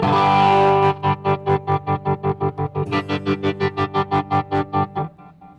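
An electric guitar chord through a Todd Sharp amp, chopped into a rapid, even stutter by a strong tremolo effect, loud and distorted, pulsing steadily before fading out.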